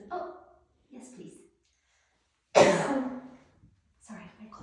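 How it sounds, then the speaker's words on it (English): A single sharp cough sounds close and fairly loud between quiet bits of someone talking softly to a puppy indoors. "Sorry, I coughed."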